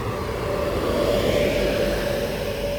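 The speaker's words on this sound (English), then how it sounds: "Yeah, the fan from that 350, mate." Steady broadband whir with a sustained tonal hum from the cooling fan of a London North Western Railway Class 350 train at Tring station on the West Coast Main Line, constant and fairly loud throughout.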